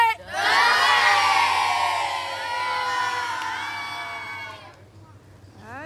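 A crowd of schoolchildren on a trip to a keropok cracker factory shouts and cheers together in a long, loud, high-pitched roar that slowly fades, close and energetic.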